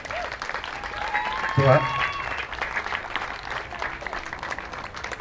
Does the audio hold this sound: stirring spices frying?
no